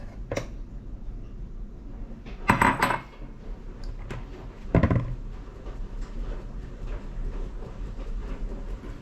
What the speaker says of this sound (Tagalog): Salain naman natin yung pan.